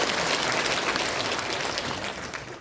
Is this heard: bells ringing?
no